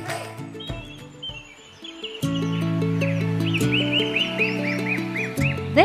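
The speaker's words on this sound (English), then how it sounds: "Wherever we are, there are birds sharing the place with us." Birds calling at Malagos Garden Resort, a steady mix of chirps and repeated whistled notes layered over a sustained low background tone, fairly close and continuous throughout.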